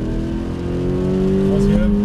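A Toyota GT86 accelerates hard around the Paul Ricard circuit, its engine note rising steadily and loud in the cabin while an instructor talks over it.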